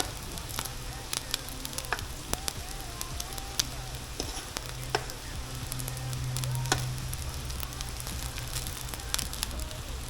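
Fried rice is stir-fried in a hot pan, producing a loud continuous sizzle with frequent scraping clicks and taps from stirring, close up.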